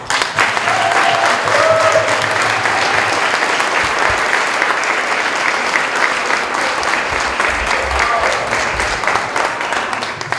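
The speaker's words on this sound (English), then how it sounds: "let's give her a hand" A large audience applauds steadily, dense clapping sustained throughout at a loud, even level with faint crowd noise underneath.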